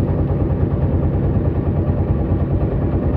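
A trawler boat's engine chugs on Kaptai Lake, a loud, close, steady low rumble with a constant throbbing vibration and no talking.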